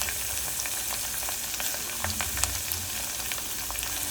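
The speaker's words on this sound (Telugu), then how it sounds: "ఇవన్నీ కూడా దోరగా వేగాలి" Green chilli, finely chopped carrot, tomato and onion fry in a pan for egg fried rice, giving a constant close sizzle with light scattered crackles and occasional stirring scrapes.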